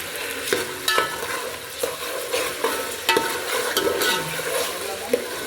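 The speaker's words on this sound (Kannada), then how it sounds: "ಹಾಗೆಯೇ ಬೆಂಡೆಕಾಯಿ ಕೂಡ ಇಲ್ಲಿ ಪಕ್ಕದಲ್ಲಿ ಹುರ್ಕೊಳ್ತಾ ಇದ್ದೀನಿ ಸಪ್ರೇಟ್" Okra frying in a pan beside a tomato bath dish, a continuous close sizzle with scattered stirring clicks and scrapes, and no talk over it.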